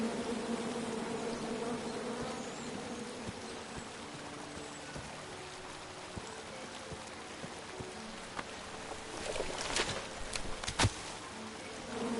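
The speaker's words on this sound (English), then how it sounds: "you chop down the tree full of angry bees" An angry bee swarm in King's Quest buzzes in a dense, continuous drone from a chopped-down tree, with scattered crackling taps rising near the end.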